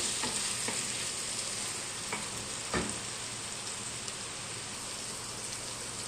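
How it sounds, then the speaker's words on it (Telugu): Tomato pieces fry with dried fish in a pan, giving a steady, even sizzle like light rain, close and moderately quiet, with a few soft clicks of stirring and no talking. "ఇవి కూడా టమాటా అంతా బాగా మగ్గేంత వరకు వేపుకోవాలి."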